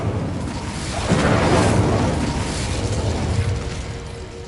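Incendio fire spell cast in Hogwarts Legacy, a broad whooshing burst that swells after the first second and holds as a roaring, crackling flare before slowly fading.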